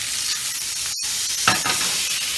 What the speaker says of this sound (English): we're going to start melting that butter